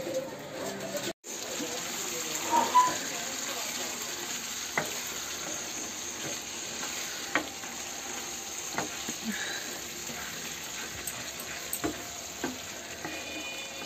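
Prawn gravy bubbles and sizzles softly in a pan at home, a steady low simmer broken by occasional sharp clicks and taps.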